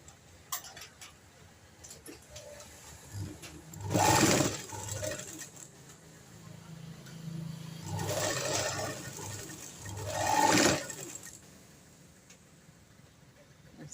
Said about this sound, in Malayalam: 2 ഇഞ്ച് വീതി മടക്കി പട്ട തയ്ക്കാം.